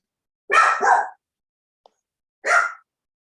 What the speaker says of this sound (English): my dog is annoying me with the barking